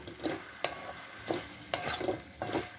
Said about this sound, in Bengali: ভালো করে নেবে সব মিশিয়ে দেবো এখন গ্যাসটা বাড়িয়ে দেবো